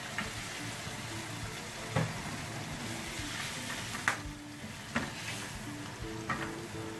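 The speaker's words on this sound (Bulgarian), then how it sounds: "Чакаме малко да се запражи." Ingredients sizzling and frying in hot butter in a pan, a steady close crackle with a few louder pops and spatters scattered throughout.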